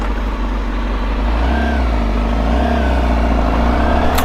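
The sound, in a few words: Honda CBR Fireblade motorcycle engine accelerating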